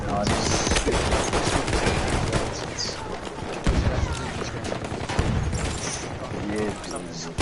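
Sustained machine gun and minigun fire from a Battlefield 1 multiplayer match, dense overlapping bursts filling the whole stretch, with scattered explosions and a voice talking over the battle.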